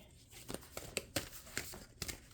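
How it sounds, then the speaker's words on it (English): A large, clunky deck of cards is shuffled close by, giving quick papery riffles and flaps in short bursts over about two seconds. "I'm shuffling a ginormous deck, so bear with me."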